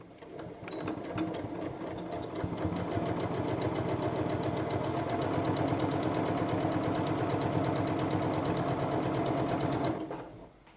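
A sewing machine runs steadily for about ten seconds, stitching down a zip with a fast, even mechanical chatter that starts, holds a constant pace and stops, close and fairly loud with no talk.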